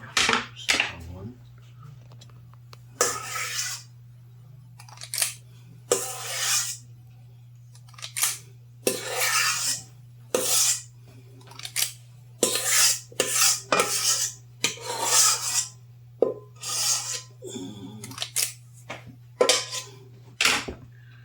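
Cream puff dough is scraped down into the bottom of a bowl in repeated rasping strokes, each a few seconds long with short pauses between, close and fairly loud over a faint steady hum.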